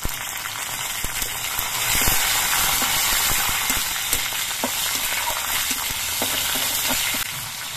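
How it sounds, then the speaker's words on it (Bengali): Garlic and slit green chilies frying in hot oil for a grated taro dish, a steady loud sizzle with scattered crackles and occasional stirring scrapes, no voices. "এবার এর মধ্যে আমি চেরা কাঁচা লঙ্কাগুলো দিয়ে দিচ্ছি।"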